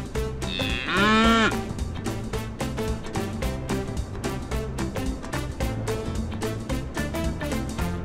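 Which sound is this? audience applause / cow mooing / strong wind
cow mooing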